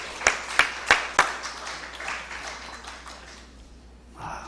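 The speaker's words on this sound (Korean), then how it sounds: "박수 한번 해주세요." A few sharp, separate claps ring out at the start in a church evening service, followed by a brief softer patter of congregation applause that fades to near quiet before a voice returns.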